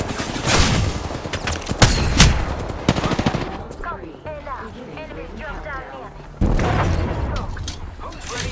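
Video game gunfire in a battle royale match: loud bursts of rapid automatic shots crack up close, then quieter mechanical clicks and distant shots, with a player's voice talking over the action.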